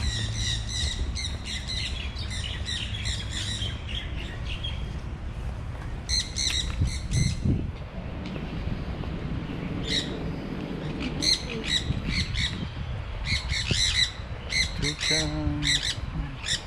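Toucan at the Honolulu Zoo giving repeated loud, raspy squawks in bursts amid outdoor zoo ambience, with people's voices murmuring in the background.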